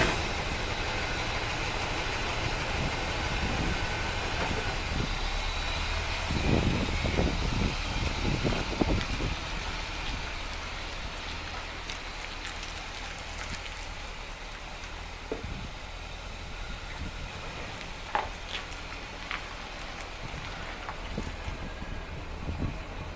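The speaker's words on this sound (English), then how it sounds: "The only way to have a test drive," 1975 C3 Corvette Convertible on a test drive with the top down: steady engine rumble and strong wind rush for a long stretch, with a few brief knocks and clatters, no talk.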